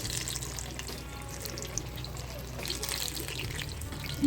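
Eggplant masala bajji sizzles steadily in hot oil over a high flame, a continuous close crackle and hiss with soft stirring, and no voices.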